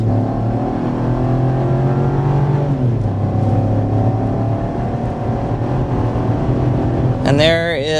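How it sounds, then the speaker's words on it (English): A Chevy Trax, the 2024 all-new model, accelerates hard from a standstill, its engine note rising steadily and shifting through a gear change, loud and close throughout, with a brief high tire chirp near the end. "let's begin things with a hard acceleration"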